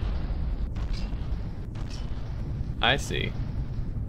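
A constant barrage of gunfire and explosions in From The Depths: low, continuous booming rumble without breaks, with a few sharper bursts and a brief spoken remark over it.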